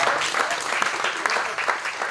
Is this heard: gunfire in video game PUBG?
no